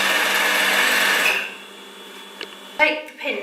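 A domestic sewing machine runs at a steady whirring pace stitching thick curtain string ties, then stops, followed by brief handling noises and a voice talking.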